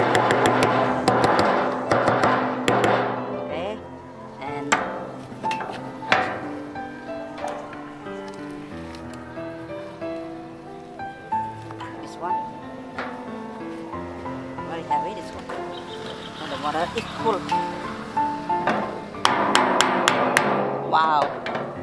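Scattered sharp taps and knocks of a hammer striking, irregular and close, mixed with clattering handling noises and a few short voices.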